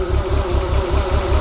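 A compound-charged R53 Mini Cooper S with an aggressive cam idles roughly, its engine throbbing in an uneven, lumpy pulse several times a second, close and steady with no talk.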